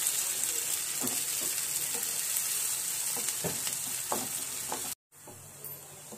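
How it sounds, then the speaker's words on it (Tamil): Sliced onions and tomatoes frying in a pan for palak paneer, a close, steady sizzle broken by occasional stirring scrapes, cutting off briefly near the end before a quieter tail. "டமேட்டோ சாஃப்ட் ஆகிற வரைக்கும் நம்ம இதை நல்லா ஃப்ரை பண்ணலாம்"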